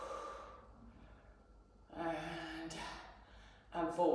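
A slow, audible exhale during a Pilates strength exercise, soft and close, followed by a breathy sigh-like release and a brief rustle at the end.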